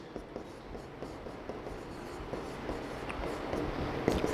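Steady scratchy strokes of writing on a board by a teacher in a classroom, a continuous close rubbing texture with faint repeated taps and no talking.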